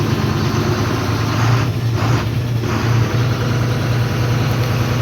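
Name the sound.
Ashok Leyland truck engine idling while being driven out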